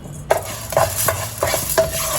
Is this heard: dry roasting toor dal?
yes